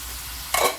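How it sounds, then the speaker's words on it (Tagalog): Bitter gourd and eggplant go into a hot pan, where a low background hiss is broken by a short, loud burst of sizzle and stirring near the end. "Saka po natin haluin ng konti. Then, ilagay na rin po natin ang ampalaya at saka talong."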